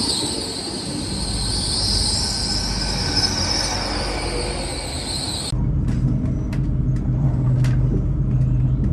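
Train rumbling along the railway near a station on a canal walk toward Olton, a loud continuous roar with wheel noise for about five seconds, then dropping abruptly to a quieter rumble with faint squeals.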